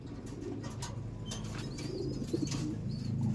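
Pigeons coo softly nearby, a low repeated rolling call over faint background chirps and light rustling.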